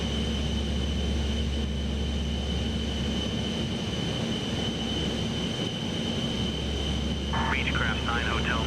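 A Beechcraft aircraft in a flight simulator sits taxiing with a steady, loud engine drone and constant propeller hum, while a radio-style voice speaks briefly near the end.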